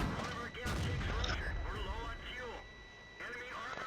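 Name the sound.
tank cannon fire in the video game World of Tanks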